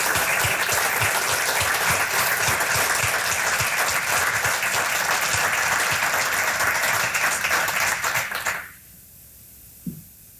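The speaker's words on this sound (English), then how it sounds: "that deserves a round of applause" Dense audience applause at an annual supporter celebration runs loud and steady for about eight seconds, then stops abruptly, leaving near silence with a single soft knock.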